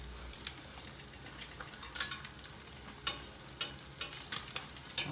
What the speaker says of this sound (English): We're gonna let our spam musubi cook real quick